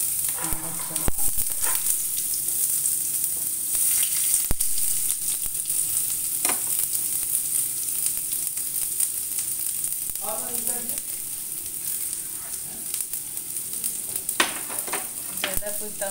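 Onion and garlic frying in a mix of oil and butter in a pan for pasta, a steady bright sizzle with occasional stirring clinks and scrapes, continuous and close.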